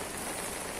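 Steady, heavy rain pours without a break during a flood in Feni, a dense unbroken hiss of drops on surfaces, close and loud.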